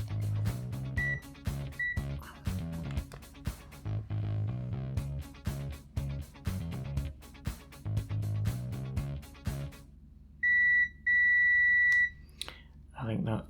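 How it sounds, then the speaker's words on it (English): A multimeter beeps in continuity mode while probing the circuit of a Little Professor calculator, giving short, repeated tones in an uneven rhythm, then two longer sustained beeps near the end, close and clear. "I'll check it with the multimeter and we can be sure."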